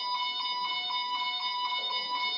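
A lecture hall alarm rings continuously with a steady, piercing electronic tone that pulses slightly, with no talking over it.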